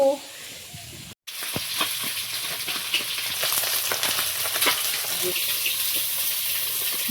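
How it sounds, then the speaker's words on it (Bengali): Puti fish fry in hot oil in a pan, giving a continuous close crackling sizzle with popping spatters, briefly cut off near the start, then steady to the end. "মাছ এক দফায় ভাজা হয়ে গেছে, হচ্ছে, আর এইগুলো এখনো বাকি"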